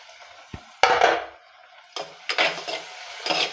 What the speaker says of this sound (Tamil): நல்லா அடுப்பை சிம்மிலே வச்சு நல்லா வதக்கி விடுங்க.